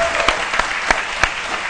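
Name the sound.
studio audience applause on a TV show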